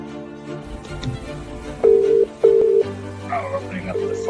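Several electronic telephone dialing tones beep in short bursts as a phone line opens, steady beeps over a faint background hum with a low tone taking over at the end.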